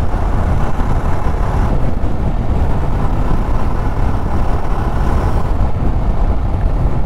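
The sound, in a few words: Jawa 42 Bobber motorcycle riding off-road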